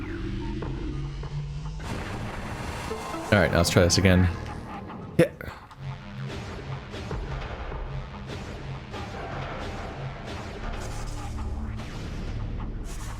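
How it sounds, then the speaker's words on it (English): Mine explosions in the Metroid Prime video game, a loud cluster of sharp booming bursts early on followed by one more isolated blast, set against steady game ambience with someone talking over it. "I think I have to use a mine to get out of that"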